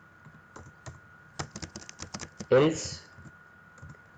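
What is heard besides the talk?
computer keyboard typing code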